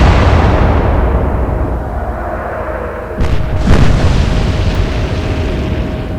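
A salvo from naval guns in the Atlantic Fleet game: a couple of sharp, close booms midway rise over a steady low rumble of battle ambience, then decay into a lingering roar.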